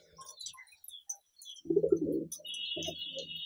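Slaty Kaldume pigeons coo in soft, close, low murmuring bursts among scattered chirps of other birds, with a faint steady tone in the background.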